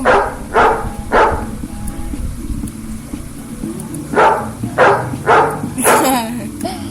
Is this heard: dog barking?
yes